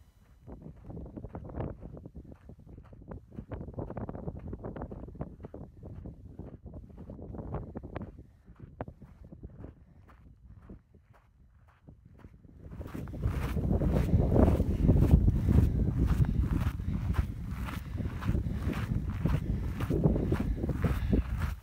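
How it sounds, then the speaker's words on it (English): Wind on the Mauna Kea summit, first gusting lightly around crunching footsteps, then buffeting the microphone in a loud, continuous roar for the last several seconds. "A little bit windy, but what do you expect on a remote island in the Pacific?"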